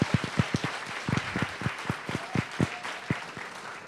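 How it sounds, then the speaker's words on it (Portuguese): Audience applause for jurors at a physics tournament final, distinct individual claps standing out over a thinner crowd wash, fairly close and irregular, without talk. "Queria pedir, então, a salva de palmas para esses 28 jurados"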